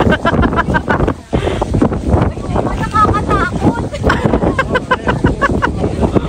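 Strong wind on Kjerag mountain in Norway buffets the microphone in a loud, continuous roar with gusty surges, while people talk underneath.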